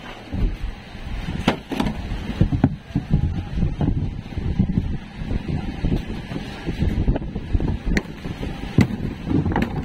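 Steady gusting wind over rough sea buffets the microphone throughout, a low rumbling roar with occasional sharper bumps, loud and close.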